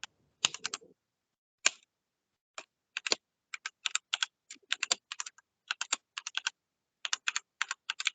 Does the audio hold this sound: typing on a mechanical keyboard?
yes